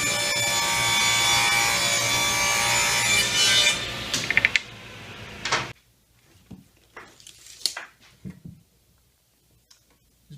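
Wood boards for a loft-bed drawer being ripped on a saw, a loud sustained cutting whine that stops abruptly, followed by scattered knocks and handling clatter.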